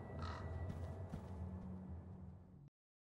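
In the horror video game Call of Cthulhu, a crow caws faintly over a low, steady ambient rumble before the sound cuts off abruptly.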